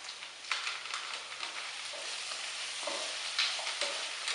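Onions and baby carrots for an oxtail stew sizzle steadily in a pot, a soft continuous frying hiss with occasional brief stirring scrapes and pops.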